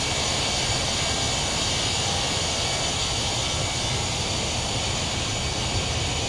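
Airbus A319 jet engines climb after takeoff in Microsoft Flight Simulator 2020, a loud, steady roar that holds constant throughout with no voices.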